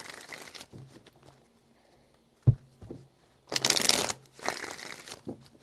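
Tarot cards being shuffled in a few quick riffling bursts, close by, with short pauses and a sharp tap between them.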